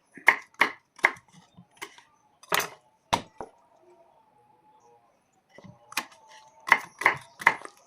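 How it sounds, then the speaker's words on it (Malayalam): Young jackfruit being chopped with a knife on a cutting board: sharp, close, separate thuds in small bursts, a quiet pause in the middle, then a quicker run of cuts. "കട്ടിങ് ബോർഡിൻ്റെ മുകളിൽ വെച്ച് മുറിച്ച്"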